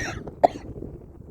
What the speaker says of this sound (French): Vous voyez, je suis dehors, là, puis je tousse.